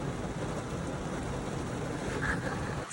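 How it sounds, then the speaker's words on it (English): Steady rain pours down outdoors on a morning, a dense continuous hiss with no voices, holding an even loudness for the whole span. "So it is raining right now."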